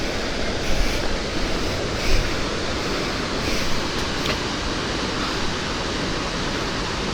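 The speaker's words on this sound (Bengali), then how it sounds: "144 ফুট উঁচু থেকে জলটা পড়ছে।" Dassam Falls near Ranchi plunges 144 feet, giving a steady, broad roar of falling water that stays even and continuous throughout with no voices.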